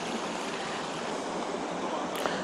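Water rushes out through river lock gates on the Mayenne River, a steady broadband roar of churning flow that holds constant throughout, with no voices.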